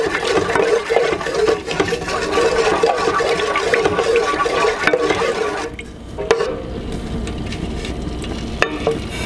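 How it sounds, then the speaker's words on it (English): Oil and beeswax are stirred together in a pot as they melt, giving a continuous close scraping, swishing texture with a faint sizzle, easing slightly toward the end, with no talking. "Just gonna stir everything up so it melts together nicely."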